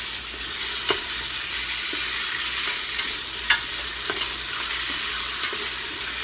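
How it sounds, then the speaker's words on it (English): Beef chuck searing in hot olive oil, a loud continuous sizzle with a few faint clicks and scrapes from moving the meat, close with no voices. "We want to sear it, so we're searing the meat."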